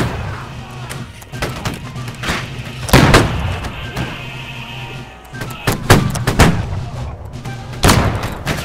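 Musket and pistol fire in the battle game Holdfast: Nations at War, with a series of loud, booming shots at irregular intervals, some near and some farther off, over a steady battlefield din.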